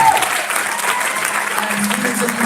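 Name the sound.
audience applause for teacher and students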